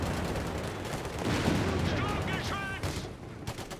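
Stuka rocket artillery blasts infantry at point-blank range in Company of Heroes 3, with dense rumbling explosions and crackling gunfire rolling continuously and loudly throughout.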